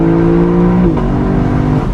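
Lexus LC500 V8 engine revving during a multi-gear downshift from third to second, a loud close throaty drone whose pitch drops then steadies as the gear change lands.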